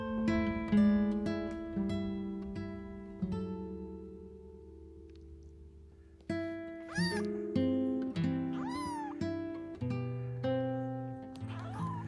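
Kittens on a farm meow in repeated short, rising cries, fairly quiet and heard over a busy background.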